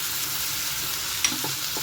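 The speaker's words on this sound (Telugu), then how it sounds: "కలిపిన తర్వాత ఇవన్నీ వెజిటబుల్స్ ఒక్కసారిగా వేసేసేయాలండి." Mixed vegetables for a curry sizzle in a hot pan while being stirred, a steady close frying hiss broken by a light scrape or two of the utensil.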